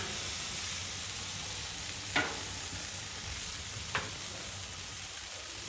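Chicken sizzling on a Blackstone griddle, a steady, soft hiss of frying with two faint clicks partway through, no voices.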